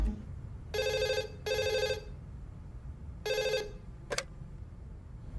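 A telephone bell rings in loud, buzzing bursts, three long rings and a short final trill, in a Hindi-dubbed South Indian film scene, near and clear with no talk over it.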